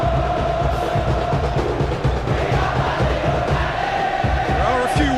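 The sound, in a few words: football stadium crowd cheering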